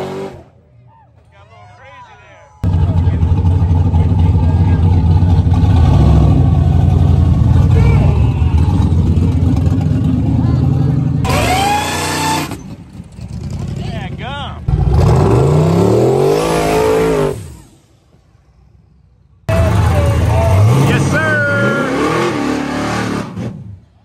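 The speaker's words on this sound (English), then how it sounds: "We're gonna get this burnt out." Car at a drag racing event doing a burnout, a loud sustained engine roar with high revs that cuts out and returns, voices heard in the pauses.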